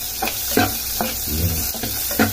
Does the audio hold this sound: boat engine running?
no